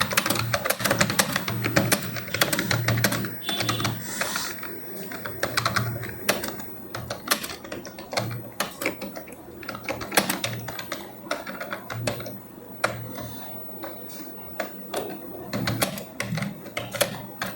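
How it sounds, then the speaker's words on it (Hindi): Hindi typing on a Chromebook keyboard gives a dense, continuous run of rapid plastic key clicks with occasional sharper taps, close and fairly loud, with no talking. "अब यहाँ पर आप इसको आसानी से टाइप कर सकते हैं।"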